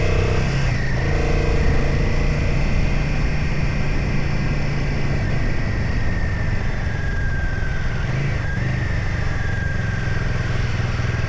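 A Royal Enfield Guerrilla 450 motorcycle is ridden along, its engine droning steadily and loudly throughout with wind rush and slight shifts in pitch, no talking.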